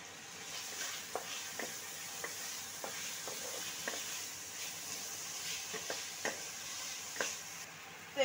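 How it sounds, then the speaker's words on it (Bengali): Chopped onion frying in hot oil with whole cumin, dried red chillies and a bay leaf for chicken curry gives a steady close sizzle, broken by intermittent scraping clicks of a spoon stirring the pan. "এবারে দিয়ে দেব পেঁয়াজ কুচি।"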